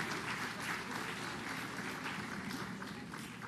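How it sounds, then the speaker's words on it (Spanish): Steady applause from a crowd honoring the president at a child-protection pact signing ceremony in Peru, a dense, continuous wash of clapping heard at moderate distance with no voices over it. "Un fuerte aplauso una vez más para el señor presidente."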